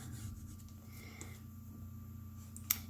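Soft, steady rubbing of a marker or pen colouring the trimmed edges of a tarot card deck, a close continuous scratchy stroke with one brief tap near the end.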